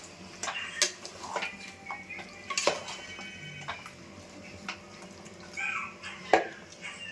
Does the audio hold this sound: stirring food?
yes